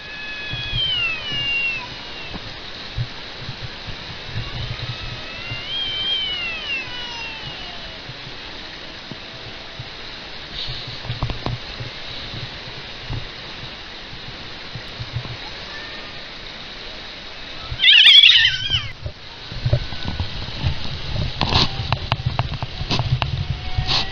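Several house cats in a serious territorial fight let out drawn-out, wavering yowls and growls, building to a sudden loud scuffle near the end, with steady rushing water in the background.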